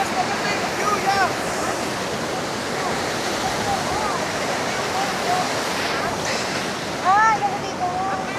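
A steady broadband roar of falling water and surf at Alamere Falls on the coast fills the scene, with faint voices and brief whoops mixed in.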